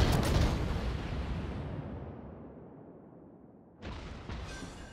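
Enemy ship guns firing HE shells in the naval game World of Warships: a heavy booming salvo that rolls off into a long fading rumble, then a second sharp blast near the end.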